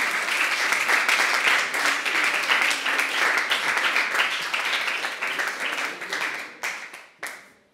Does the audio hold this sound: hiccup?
no